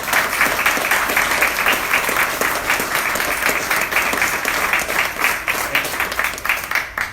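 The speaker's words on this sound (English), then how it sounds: "Please give them all a big round of applause." Steady audience applause at the opening of a nuclear-themed exhibit at a museum, a dense, sustained clapping from a large crowd that holds at an even level throughout without fading.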